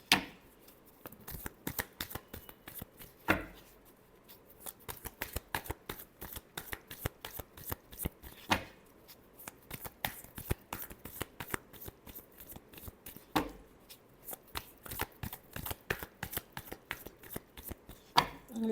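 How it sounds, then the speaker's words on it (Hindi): Tarot cards being shuffled by hand in a long run of rapid, crisp riffling flutters with brief pauses between bursts, close and fairly quiet, with no talking. "Last shuffle."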